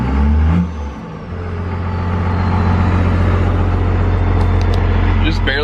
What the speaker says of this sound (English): You can just feel the whole truck shake when you just tap the gas.